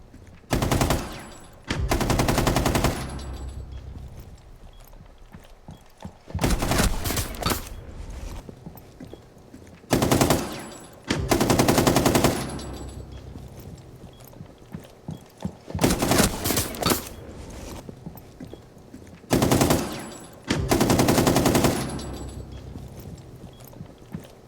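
Rainbow Six Siege gameplay: repeated bursts of loud rapid gunfire separated by quieter stretches of footsteps and movement noise, several rounds in sequence.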